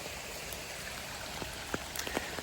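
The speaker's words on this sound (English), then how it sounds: "I'll have to pick that up later when the rain stops" Rain falls by a creek outdoors, a soft steady hiss of drops and running water with scattered faint patters and taps, quiet and without voices.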